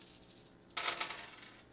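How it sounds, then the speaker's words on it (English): Dice clatter onto a tabletop during a fractions math lesson, one burst of rattling clicks that quickly settles and dies away, fairly close and alone with no talking. "So if we roll the dice,"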